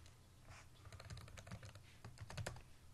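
Someone types a terminal command on a computer keyboard while setting up 3D printer slicing software on a Linux desktop. Quiet, irregular keystroke clicks come in quick clusters throughout.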